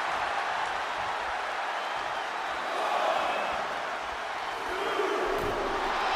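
Wrestling arena crowd roaring steadily at a big televised event, a dense, continuous wall of cheering that swells slightly mid-way, with no clear voices standing out.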